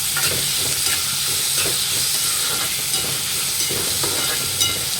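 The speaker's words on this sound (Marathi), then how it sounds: "कांदा मिरची छान फ्राय झालेले" Onion and green chillies fry in a pan with salt, a steady close sizzle broken by soft spatula scrapes and stirring taps, with no talking.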